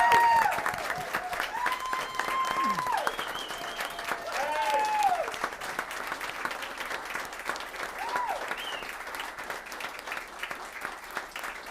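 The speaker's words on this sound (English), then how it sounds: "Let's give him another round of applause." A city council meeting audience gives a sustained round of applause, moderately loud and continuous, with people talking over the clapping throughout.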